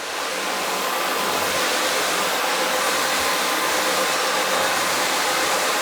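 A 10-inch CRB counter-rotating brush machine scrubs carpet to remove pet urine, producing a loud, steady whirring roar of motor and brushes that runs unbroken and close by.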